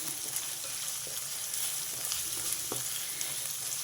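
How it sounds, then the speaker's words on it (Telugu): Green chilies and onions fry in hot oil with mustard and cumin seeds, giving a continuous, moderately loud sizzle with a few small pops and scrapes, and no talking. "కట్ చేసి పెట్టుకున్న పచ్చిమిర్చి ఉల్లిపాయలు వేసేసా ఇవి కొంచెం వేగాలి"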